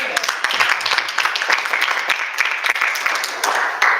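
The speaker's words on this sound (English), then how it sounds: "Give yourself some applause." Brisk applause from a group at a National Federation of the Blind state convention, scattered claps forming a continuous patter with a voice briefly audible over it.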